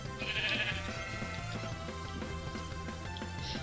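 A sheep in Minecraft gives a short nasal bleat over quiet, looping background music, with no talking.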